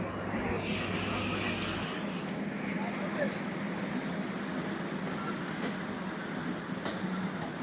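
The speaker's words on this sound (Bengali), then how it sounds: "আমাদের ট্রেনটা আবার চলতে শুরু করলো।" A Benapole Express passenger train gets moving again, its steady rolling rumble and rattle of carriages filling the space close by without letup.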